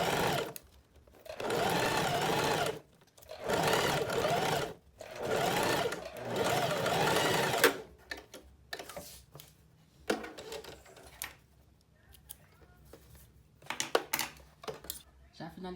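A sewing machine stitches a blouse seam in three loud, close bursts of whirring, followed by quieter clicks and handling of fabric and tools.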